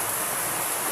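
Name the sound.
heavy rain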